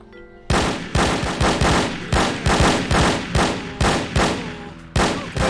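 Gunfire from the video game No One Lives Forever rings out in rapid bursts of sharp, loud shots, about a dozen in quick succession with short gaps, with no talk over them.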